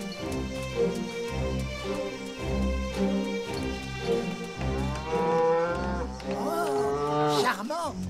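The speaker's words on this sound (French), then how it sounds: "c'est une vache." Cartoon cow mooing in several long, deep, rhythmic lows set against music, the last calls rising and wavering near the end.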